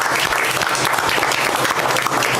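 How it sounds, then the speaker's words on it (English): A meeting audience in Campbell County breaks into applause, dense, loud, continuous clapping from many hands filling a few seconds. "let's just give them a round of applause"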